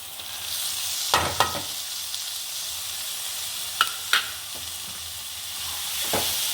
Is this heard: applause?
no